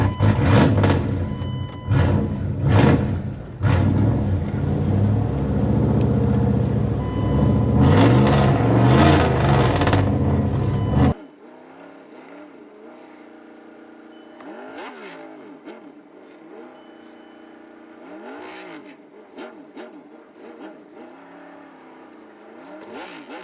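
Heavy truck engine, either a plow or a boom truck, revs loud and close for about eleven seconds in a muddy tire-swap setting, then drops to a quieter idle with rising and falling revs.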